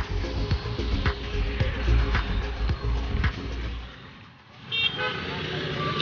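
Busy road traffic while crossing a street: car engines rumble close by and horns toot in short repeated bursts, voices talking over the noise, before the traffic briefly quiets and returns.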